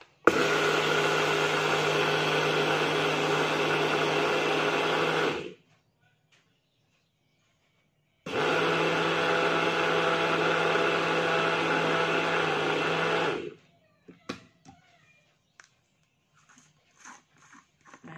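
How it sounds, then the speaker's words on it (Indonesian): A blender grinds granulated sugar into castor sugar in two pulses of about five seconds each, a loud steady motor whir that cuts off sharply between them, followed by faint rattles and clicks. "Kemudian kita blender dengan mode pulse"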